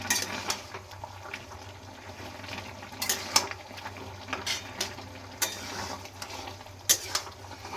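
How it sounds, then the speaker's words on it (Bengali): Pumpkin greens and vegetables are stirred in a cooking pan. Faint scraping clicks and knocks repeat irregularly over a quiet low hum, with no talking. "ভালো করে নাড়াচাড়া দিয়ে দিচ্ছি।"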